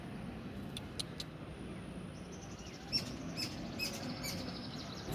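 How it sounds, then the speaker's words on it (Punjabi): Sparrows chirp from the wires outside in a scatter of faint, brief high tweets over a steady background hum, with no talk. "ਮੈਂ ਆਈ ਸੀ ਉੱਪਰ ਤੇ ਚਿੜੀਆਂ ਦੀ ਆਵਾਜ਼ ਸੁਣ ਕੇ ਆਈ"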